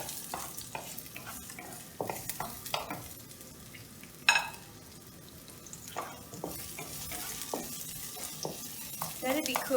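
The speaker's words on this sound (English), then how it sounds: "The oil now is heat up pretty well now. I'm just going to put in this garlic, ginger, and the roots of the onions," Garlic, ginger and green onion roots sizzle and crackle in hot oil in a home kitchen wok, with a steady frying hiss broken by clinks and stirring scrapes and a brief louder burst midway.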